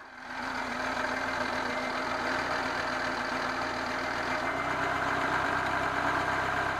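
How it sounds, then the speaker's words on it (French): Citroën BX 16 TZS engine with automatic gearbox, after new timing work, settling from a rough idle into a steady close hum, engine speed rising slightly and holding firm toward the end. "le moteur reprend des tours"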